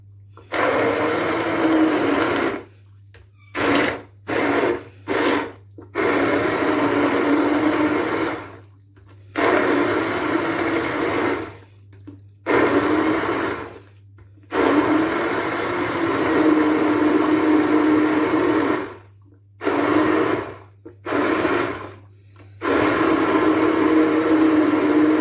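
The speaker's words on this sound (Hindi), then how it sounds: "इसको मैं थोड़ा सा ब्लेंड कर रही हूँ, आई लाइक पल्पी टेक्सचर" A kitchen blender whirs loudly, blending peaches into a pulpy juice in repeated pulses with brief silent pauses between runs.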